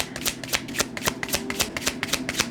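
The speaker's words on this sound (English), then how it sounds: "One more shuffle." A deck of cards is riffled in one quick, close shuffle during a card reading, with a rapid burst of crisp flutters and snaps and no speech.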